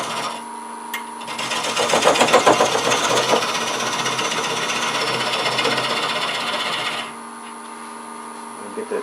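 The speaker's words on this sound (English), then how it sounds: "initially start the shaping with a bowl gouge before I resort to hollowing tools" Bowl gouge cutting into spinning wood on a lathe, starting at the center, a loud rough scraping and rasping that swells, holds steady for several seconds over the motor's hum, then drops back to the quieter whine.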